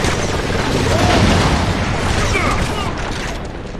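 Auger weapon fire in the video game Resistance, a dense run of booming, rumbling blasts that swell and fade over several seconds, loud and close, with mechanical clatter under a player's voice.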